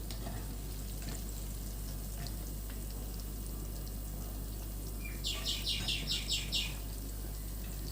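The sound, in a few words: deep-frying prawns in oil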